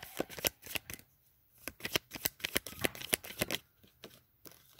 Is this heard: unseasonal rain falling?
no